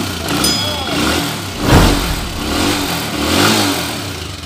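Repaired motorcycle engine revving in a workshop, several rising and falling surges with one sharp peak, close and fairly loud, with voices talking over it.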